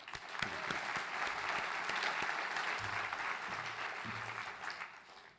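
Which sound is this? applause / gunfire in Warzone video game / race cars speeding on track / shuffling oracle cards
applause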